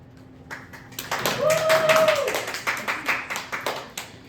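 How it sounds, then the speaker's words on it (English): An audience claps after a student's AP Research presentation. The applause builds into steady rhythmic clapping and then thins into separate claps, with a voice briefly over it. "Huge rounds of applause."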